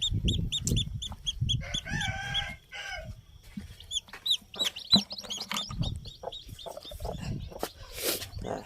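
Hens cluck repeatedly, with brief crowing-like calls and chick chirps mixed in, close and fairly busy, no talking.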